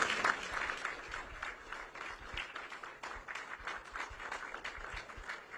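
Applause for South Dakota Governor Kristi Noem from an indoor audience, moderately loud, uneven clapping with scattered sharp claps that continue throughout the clip.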